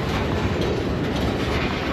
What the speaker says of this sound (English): Cause the train just keeps making noises.